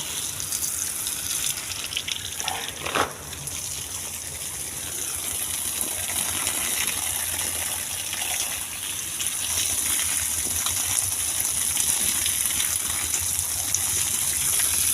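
Water gushes steadily from a thick pipe left running outdoors at a family home, a continuous broad rush that stays loud and unbroken throughout, with one brief knock near the start.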